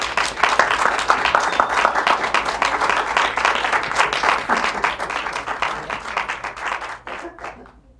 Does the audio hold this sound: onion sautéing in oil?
no